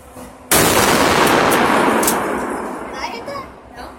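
A child fires a pump-action shotgun indoors: one loud, sudden blast that rings out and decays slowly, followed by fainter mechanical clacks as the action is racked.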